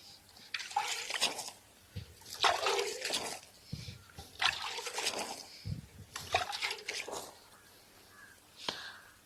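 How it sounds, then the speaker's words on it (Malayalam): Water poured from a vessel onto freshly planted flowering saplings in a garden plot, a splashing, trickling pour in several bursts over about nine seconds, fairly close. "ഇനി ഇച്ചിരി വെള്ളം ഒഴിച്ചു കൊടുക്കാം."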